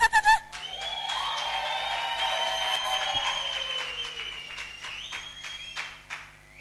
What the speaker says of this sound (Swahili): Hebu pige vigelegele